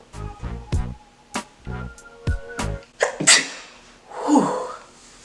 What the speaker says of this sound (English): I'm tired of sneezing.